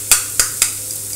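Eggs fry on a tawa for a dhaba-style scramble, with three quick sharp scrapes of a spatula stirring the pan over a soft, steady sizzle.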